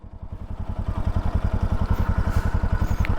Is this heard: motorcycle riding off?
yes